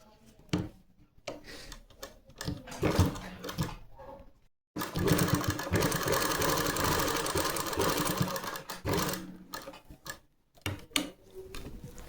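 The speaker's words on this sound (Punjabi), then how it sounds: "ਫੋਲਡ ਕਰਨ ਤੋਂ ਬਾਅਦ ਆਪਾਂ ਇਹਦੇ ਤੇ ਲਗਾਵਾਂਗੇ ਸਲਾਈ" A sewing machine stitches the folded neckline of a kameez, running in short bursts at first, then in one long steady run through the middle, then stopping and starting again near the end.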